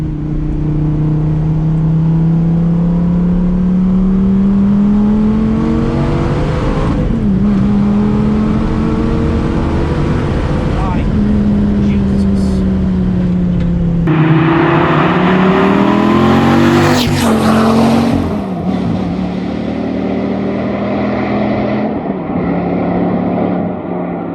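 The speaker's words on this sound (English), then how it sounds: "So up here, second gear pull." Dodge Viper with a 645-horsepower V10 pulling hard through second gear, a loud continuous engine roar climbing in pitch with a brief dip at the shift, steady and close throughout with no talk.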